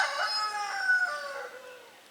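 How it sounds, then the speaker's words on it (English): A rooster crows once, a loud, drawn-out call that rises and trails off, heard alone. "That's the annoying rooster."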